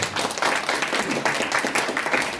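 An audience claps together at a YMCA 79th anniversary ceremony in Gunsan, a dense, steady patter of many hands filling the whole short stretch at even loudness.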